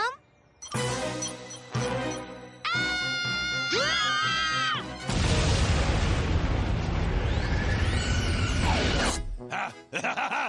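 A cartoon bomb explodes in a loud, sustained blast that rumbles for several seconds and then cuts off, following cartoon voices and cat-like squeals.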